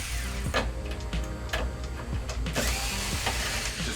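Screws being driven out of the stand of an LG 42LE5400 LED TV, with a close power tool whirring and ratcheting in short repeated bursts and mechanical clicks between them.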